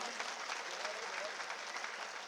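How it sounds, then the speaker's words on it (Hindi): An audience claps warmly for children after their dance and play at a religious gathering in Ahmedabad, a dense, even patter of hands held at moderate distance throughout. "जोर से ताली बच्चों के सम्मान में"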